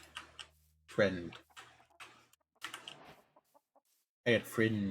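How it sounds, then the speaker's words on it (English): Minecraft parrots in a jungle give short squawking, clucking calls in scattered bursts, alternating with a person talking nearby. "Oh, there they are. Little parrots."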